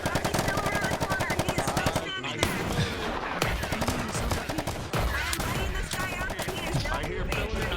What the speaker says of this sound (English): I can just shoot the gun as far as possible